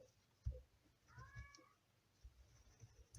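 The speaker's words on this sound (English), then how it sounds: "people can hear the cat going crazy now, but I'm in the middle of filming and the cat is of course trying to get into the room" A cat meows a few times from behind a door, trying to get into a room during an art drawing session, the cries faint and a little distant, with soft thumps and scratching between them and no talking.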